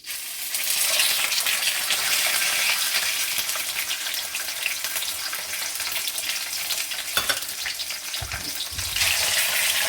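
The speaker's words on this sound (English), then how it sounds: "we're going to start searing the beef oxtail cubes" Beef oxtail cubes searing in hot olive oil for a stew, a loud continuous crackling sizzle with occasional stirring clatter, close up and with no talking.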